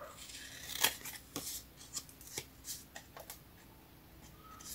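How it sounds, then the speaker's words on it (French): Scissors snipping through card paper while finishing a cut on a handmade scrapbook card, a series of crisp, close, irregular snips and paper rustles with no talking. "Je vais finir au ciseau."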